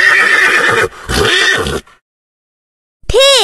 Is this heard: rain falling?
no